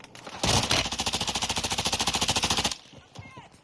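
Sustained automatic gunfire in a shooter video game, a loud, fast, evenly spaced string of about twenty-five shots lasting a couple of seconds, then a quieter tail with scattered sounds.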